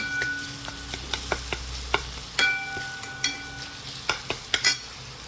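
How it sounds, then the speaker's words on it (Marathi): Homemade onion-garlic masala, garam masala, turmeric, coriander powder and salt being stirred into green chickpea bhaji in a pan, a series of sharp spoon clinks and scrapes over a low sizzle, irregular and close, no voices. "गरम मसाला, हळद मीठ पावडर, धनिया पावडर आणि मीठ हे सगळं मिक्स करून घेऊ."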